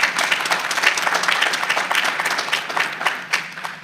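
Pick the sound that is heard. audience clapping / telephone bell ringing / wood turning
audience clapping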